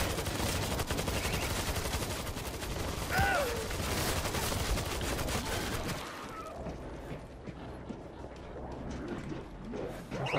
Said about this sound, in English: Why is the turret shooting us?